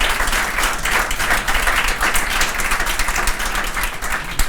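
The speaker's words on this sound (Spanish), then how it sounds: "aquí recibo aplausos" Audience applause fills a Spanish-language talk event, a dense, steady wash of many hands clapping at even loudness from start to finish with no voices over it.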